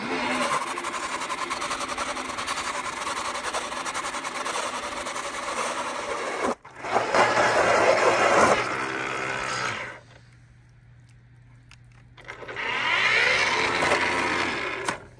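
A battery-powered ice auger drills through ice with a loud, steady whirring motor, cuts out abruptly, restarts in a louder grinding burst, drops to a quiet lull, then spins up strongly again.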